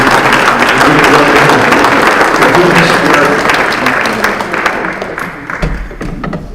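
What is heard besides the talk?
audience applause for panelists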